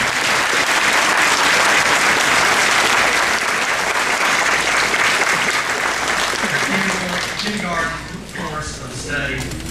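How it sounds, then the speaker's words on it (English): A large audience at a kindergarten graduation claps loudly and continuously, the applause holding strong before easing near the end as voices emerge. "let's give these kindergartners a big round of applause"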